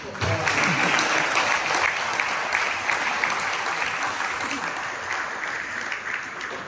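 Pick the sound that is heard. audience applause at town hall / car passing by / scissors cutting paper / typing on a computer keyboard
audience applause at town hall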